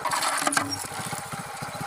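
A motorcycle engine labors while riding up a steep mound on a rough field path, its close, throbbing exhaust pulsing unevenly as the rider pushes the bike uphill.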